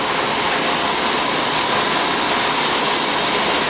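Continuous loud machining noise from a CNC mill working a Bradley GT II tilt hinge part, a dense hissing whine with no pauses and no voices.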